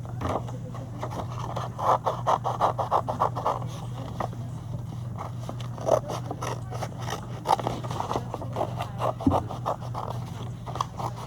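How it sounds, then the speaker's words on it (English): Scissors cut through paper in a run of quick, crisp snips and scraping strokes, fairly close and steady, over a low background hum. "Now, I'm going to cut this out. There's my scissors."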